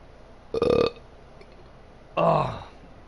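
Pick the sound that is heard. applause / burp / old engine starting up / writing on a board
burp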